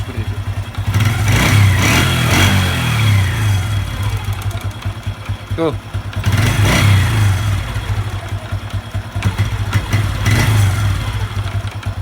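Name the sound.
Honda Revo 110 motorcycle engine revving with knocking clunk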